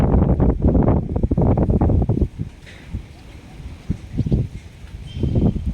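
Strong gusts buffet an open outdoor site near bridge girders and a parked crane in Malabon, rough wind bursts pounding loudly at the start, then easing and rising again while someone talks over it.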